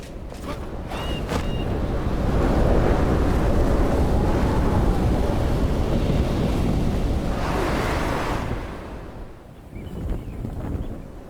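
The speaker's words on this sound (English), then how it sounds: "And I might use this gust of wind to help us get there." A steady gust of wind rushes through the open landscape of the survival game Enshrouded, a loud, broad roar that holds for about eight seconds before easing off and swelling slightly again at the end.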